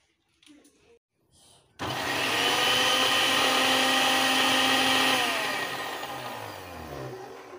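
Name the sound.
mixer grinder crushing Cheetos cheese balls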